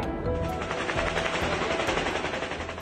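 Rapid bursts of gunfire aimed at the sky during a suspected drone attack in Russia's Pskov region crack repeatedly in quick succession, a sustained rattling volley echoing outdoors at moderate distance.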